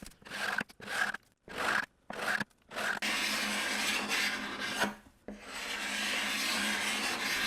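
Teal paint being scraped off a wooden mid-century coffee table, heard first as short rasping strokes with brief pauses, then as a longer continuous scrape, close and clear.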